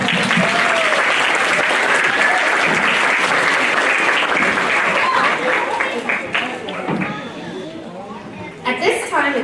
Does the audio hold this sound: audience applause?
yes